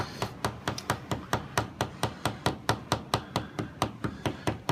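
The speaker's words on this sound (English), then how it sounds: "this cut I'm just gonna use a mallet just to show you" Wooden mallet striking a Pfeil carving gouge as it cuts into wood: a fast, even series of about twenty sharp knocks, close and crisp, with no talking.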